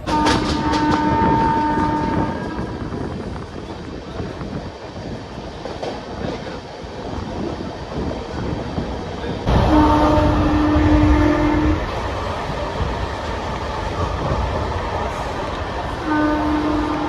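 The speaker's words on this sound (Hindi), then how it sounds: "चलो वे ट्रेन में आ गई, ये सुपर फास्ट ट्रेन है एकदम फास्ट" Superfast passenger train arriving at a railway junction, a loud continuous rumble and rattle of carriages with clickety-clack, sustained horn blasts sounding several times, near and steady throughout.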